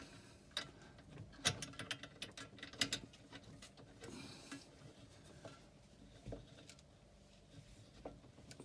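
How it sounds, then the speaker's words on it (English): A clamp on a beer fermenter is fitted and tightened by hand, giving a run of quiet metallic clicks, ratcheting scrapes and clanks at close range, scattered irregularly over a low background hiss. "And put our clamp back on."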